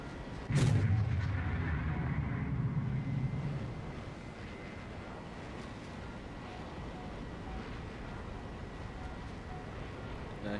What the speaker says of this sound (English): Then I launch a 9L at him and it goes straight for his flares.